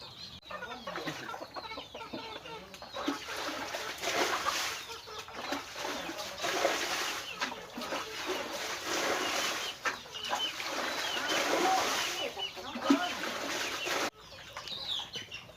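Busy duck noise while the ducks play in water: steady clucking and squawking from several birds, with occasional wing flaps, continuous and fairly close, no talking.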